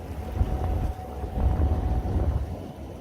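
Fishing boat cruising steadily on a Lowrance Ghost electric trolling motor in course lock mode, a low continuous rumble of water and hull noise with wind across the microphone.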